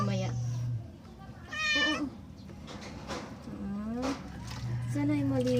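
A pet cat meows repeatedly during a bath, several drawn-out, rising cries close by, with a person talking in between.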